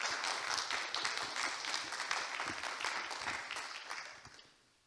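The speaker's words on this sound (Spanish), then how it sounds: "desde aquí vamos a darle un fuerte aplauso para empezar con la transmisión a Rafi Tur" Audience applause at a reflexology and movement congress in Maldonado, Uruguay, welcoming a speaker: steady dense clapping filling the room for several seconds, then fading out at the end.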